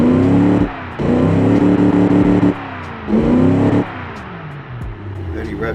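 Muscle car engine with a reverse-flow muffler in the Automation video game, revving hard in two rising bursts, each dropping back to a lower idle drone between them.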